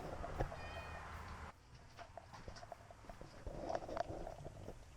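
A cat meows at a beach house, a couple of short close meows standing out over quiet indoor background noise and faint shuffling.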